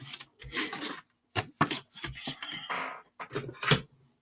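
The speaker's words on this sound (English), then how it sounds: "I'm going to make that lay down by rubbing my bone folder along the edge" Repeated dry rubbing strokes of a bone folder pressed along a paper edge, close and fairly loud, in uneven bursts with brief pauses between.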